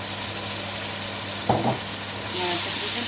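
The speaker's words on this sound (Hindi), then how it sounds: "तब तक हम इसको अच्छी तरह से भूनते रहेंगे" Koftas fry and are stirred in a sizzling Lahori curry with dried fenugreek, giving a steady, close hiss of hot oil and a brief scrape of a spoon midway.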